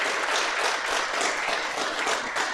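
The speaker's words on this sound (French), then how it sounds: "On peut vous applaudir également." An audience at a public discussion event applauds in a soft, even patter of many hands, heard from a distance and sustained throughout.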